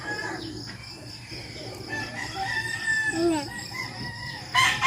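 Chickens cluck and squawk close by, with a rooster crowing partway through, over a low background hum.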